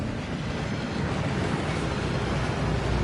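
Rushing waterfall in the Gringotts vaults of a Harry Potter game, a dense, steady roar of falling water filling the whole stretch, loud and unbroken.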